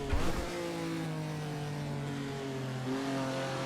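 A Ferrari race car in the Assetto Corsa racing game revs hard, its steady engine whine holding pitch and shifting slightly through the gears, loud and continuous with no talk.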